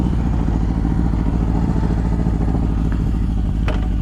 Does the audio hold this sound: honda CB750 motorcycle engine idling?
yes